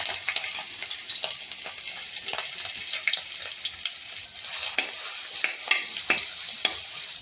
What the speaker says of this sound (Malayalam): ഇനി നമുക്ക് ഇഞ്ചിയും വെളുത്തുള്ളിയും ചതച്ചത് ഇട്ട് കൊടുക്കാം